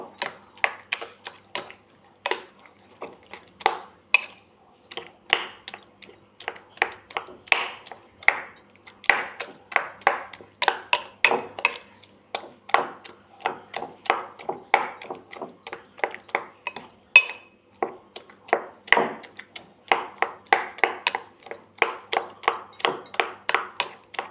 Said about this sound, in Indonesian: Dihaluskan tahunya seperti ini.